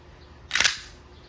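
A WE Glock 17 Gen 5 gas blowback airsoft pistol loaded with 4.5mm steel balls fires once, a single sharp, close crack with a quick hiss of gas, alone against a quiet background.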